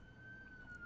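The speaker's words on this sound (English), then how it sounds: "sorry about the sirens," A faint siren wails steadily in the distance, a thin sustained tone over low street rumble.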